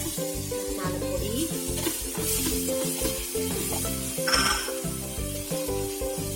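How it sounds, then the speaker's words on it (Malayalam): Prawns sauté with chilli, coriander, masala and pepper powders in a pan, giving a continuous sizzle under repeated scraping and stirring, with spoon-on-pan clinks close by. "മണം മാറുന്നവരെ വഴറ്റണം"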